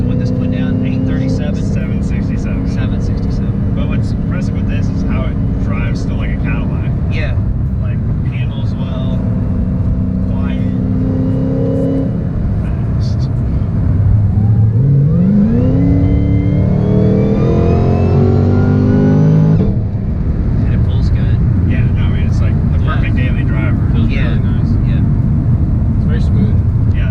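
Deep engine rumble from an 1100HP Hellcat Redeye being driven, steady at first and then revving up in a rising sweep before easing back, with voices talking over the engine noise.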